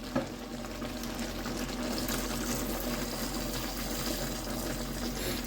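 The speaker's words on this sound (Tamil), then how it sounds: "இனி கொஞ்சம் தண்ணி நாங்கள் விடுவோம்" Water pours steadily into a pot, a soft continuous splashing that stays quiet and even throughout.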